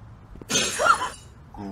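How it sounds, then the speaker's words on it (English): Glass shatters once in the indie horror game Bad Ben, a sharp bright crash that rings and fades within about a second, followed by a short voiced sound. "It was just breaking glass."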